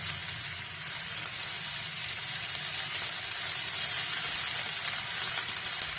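Onions sautéing in a pan for keema ring rolls give a steady, close, loud sizzle and crackle that runs throughout without talk.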